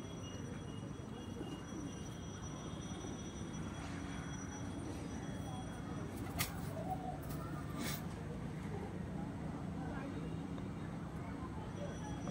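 Pigeons cooing faintly in the background of a quiet outdoor space, soft low murmurs with a few sharp clicks, and a voice speaking now and then.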